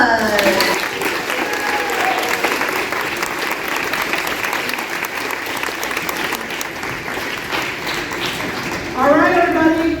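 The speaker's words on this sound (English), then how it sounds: "All right, round of applause." Audience applause at a school quiz bowl competition, a steady dense clapping that fills the whole stretch and swells again near the end, with voices and cheers mixed in.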